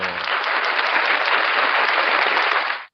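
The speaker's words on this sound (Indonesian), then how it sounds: "Tepuk tangan dulu untuk Ananda." A class of schoolchildren in an online lesson claps together, a dense, steady burst of applause lasting a few seconds that cuts off abruptly, with no voices over it.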